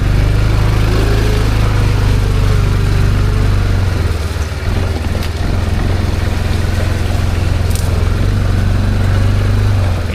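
A Linhai 550 quad bike idles in a muddy rut off-road, its engine a steady low rumble that stays loud and close throughout with no talk over it.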